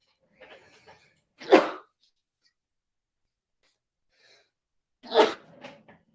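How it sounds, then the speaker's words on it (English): Two short, sharp sneezes a few seconds apart, close by, with faint breathy sounds before the first one. "oh my God, I'm going to sneeze"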